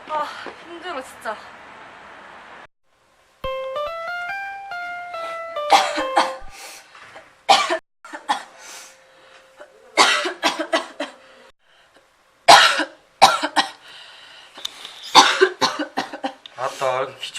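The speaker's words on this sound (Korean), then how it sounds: "지금 자꾸 기침이 나네" Several sharp coughs break out in bursts, mixed with talking voices and a short melodic tone, close to the listener.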